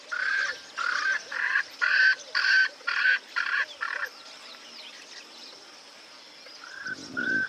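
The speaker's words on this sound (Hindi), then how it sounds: "स्वेनसन्स फ्रैंकलिन। छोटे से इस पक्षी की आवाज बहुत तेज है।" A Swainson's francolin gives a loud series of about eight harsh, rhythmic calls in quick succession, then falls silent before a couple of further calls and a low rumble near the end, with no talk.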